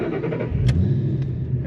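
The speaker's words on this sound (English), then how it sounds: "that supercharged Coyote 5-liter fires right up" Supercharged Coyote 5.0L V8 in a 2013 Ford Mustang Saleen S302 yellow label, 625 hp, starting up: a loud, steady low rumble with a sharp catch of ignition near the middle, settling into a continuous idle.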